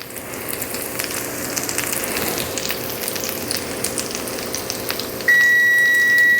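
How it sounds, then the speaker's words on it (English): Zucchini veggie fritters frying in a pan with a continuous close sizzle, then a kitchen timer starts a steady high-pitched electronic beep over the frying near the end; no one speaks. "Okay, let me turn off the timer."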